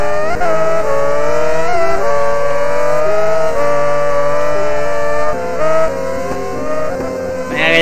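Racing superbike engine in a motorcycle racing video game, a loud high-pitched whine that holds steady and shifts pitch between gears, ending with a sharp drop near the close.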